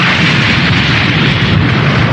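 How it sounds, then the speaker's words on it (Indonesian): A huge explosion from a laser blast in a Dragon Ball anime battle, a loud, sustained rumbling roar with crackling burst texture lasting the whole moment, with no talk over it. "Vegeta yang kesal kembali menembakkan laser membuat kehancuran yang sangat besar."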